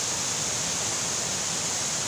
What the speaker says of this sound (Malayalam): നല്ലൊരു പുഴ ഒഴുകി പോകുന്നു